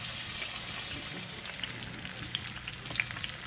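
Garlic fries in oil in a pan, a soft steady crackling sizzle with small irregular pops and spits, heard close up without talking.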